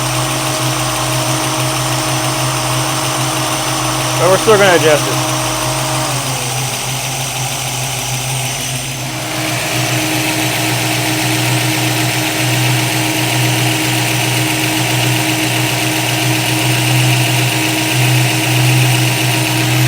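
A 1965 Mustang engine fitted with a 650 Holley carburetor idles steadily and close up, a continuous low hum with a brief burst of revving near the start and a short spoken comment.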